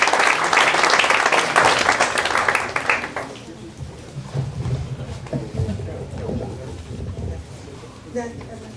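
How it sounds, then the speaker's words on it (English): Audience applause welcoming Dr. Claudia Ferndandez Limon to speak to teachers at a school event: dense, loud clapping for about three seconds that then fades into quieter room noise and murmuring. "please welcome her with a warm applause"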